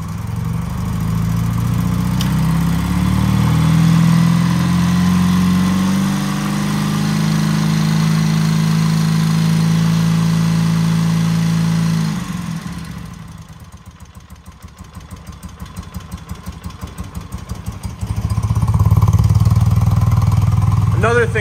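A BMW Airhead motorcycle engine with Bing carburetors idles steadily and loudly, then its pitch shifts and wavers as it is brought up off idle before settling into a fuller, throatier run.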